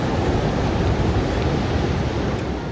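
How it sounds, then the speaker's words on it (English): Ocean waves wash steadily against the rocky shore around the Tanah Lot sea temple on a small island in Bali, a continuous broadband roar of surf that stays loud and close with no voices. "The sound of the waves,"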